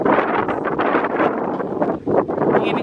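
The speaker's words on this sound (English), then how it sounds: "It's super windy, you guys" Strong wind buffets the microphone in loud, roaring gusts that rise and fall, with a brief lull near the end.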